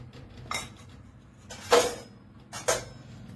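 Three distinct clinks of a spoon against a bowl ring out over a quiet background as black pepper, asafoetida and other spices are mixed for a makhaniya gathiya snack batter.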